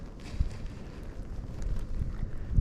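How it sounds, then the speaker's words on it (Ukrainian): Wind gusting over a frozen river during ice fishing, a steady low buffeting rumble against the microphone, moderately loud and continuous with no voices. "Вітер, звісно..."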